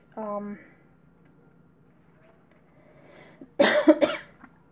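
A brief voiced tone, then after a pause a loud cluster of harsh coughs close to the microphone.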